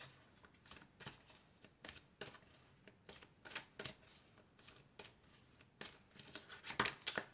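Tarot cards are shuffled and drawn in a quiet room, soft rhythmic riffling bursts repeating close by with no talk.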